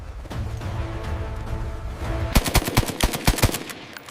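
Rapid gunfire from a military shelling scene, a fast burst of about a dozen loud sharp shots in the second half, following a steady rumbling background.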